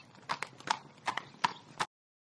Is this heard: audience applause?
no